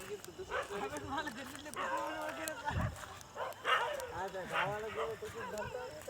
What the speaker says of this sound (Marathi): ऑलरेडी साईडचे सगळे कुत्रे भुकत आहे मला